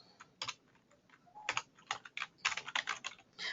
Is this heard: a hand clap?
no